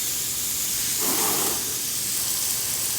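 Water spray rinsing the wheel and tire of a Duramax truck after off-roading: a steady, close hiss of pressurized water that briefly swells louder and fuller around the one-second mark, then settles back to a constant spray.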